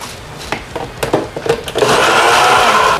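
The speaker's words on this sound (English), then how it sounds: "Now I'm just gonna blend all this oatmeal" Kitchen blender whirring through oatmeal with garlic powder, Italian seasoning, salt and black pepper, starting with short choppy pulses before settling into a steady, loud continuous grind.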